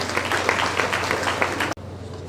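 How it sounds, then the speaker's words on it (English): An audience at a career fair symposium applauds steadily with dense, close clapping that stops abruptly near the end. "Can we applaud?"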